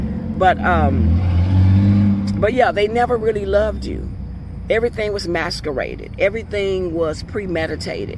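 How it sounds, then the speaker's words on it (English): A loud truck rumbles past outside, a heavy low drone building in the first couple of seconds and then fading beneath someone speaking continuously. "Somebody's driving with a really loud truck."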